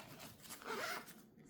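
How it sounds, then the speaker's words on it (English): A zipper runs along the back pocket of a Coach handbag made of light canvas, a soft close rasping pull of about a second in a quiet room. "it has that zipper in the back"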